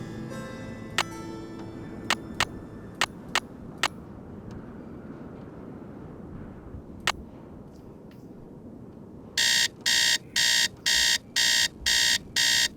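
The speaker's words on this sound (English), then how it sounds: "The alarm..." In the Nancy Drew game Treasure in the Royal Tower, an alarm blares in loud repeating bursts, about six evenly spaced blasts, after sparse clicks and ticks over a low rumbling background.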